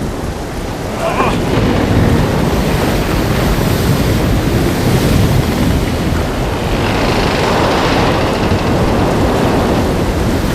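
Stormy sea waves crash and roar continuously under heavy gusting wind, loud and dense throughout with no pauses, like a violent tempest at sea.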